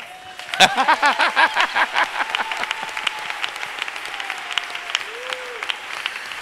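A church congregation claps in a burst of applause that peaks early, then thins into scattered claps under murmuring voices and a faint spoken tone.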